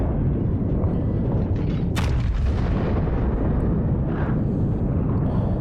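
The main battery of the Yamato battleship fires in World of Warships, one sharp thunderous report about midway over a constant low roar of sea and engine rumble.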